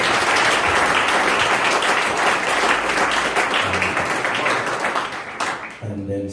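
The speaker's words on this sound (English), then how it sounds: "Give yourselves a round of applause." A church congregation claps and cheers in a lively round of applause, loud and dense, with some voices mixed in before it thins out near the end.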